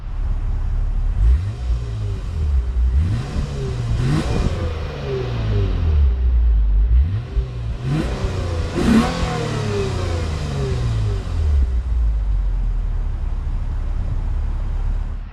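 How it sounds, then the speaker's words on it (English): A 2021 Lexus RC350 F-Sport's six-cylinder engine revving through its dual exhaust, several rising and falling revs of close, loud engine tone with a steady idle between, no talk. "the physical dual exhaust that we have down below. And actually, the fun part is that this actually sounds really nice"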